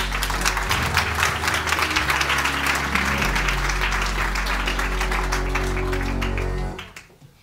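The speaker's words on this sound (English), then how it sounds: "But while you're getting a good applause." Sustained audience applause in a conference hall during a talk on Russia and the US, dense and steady clapping at full volume for several seconds before cutting off abruptly near the end.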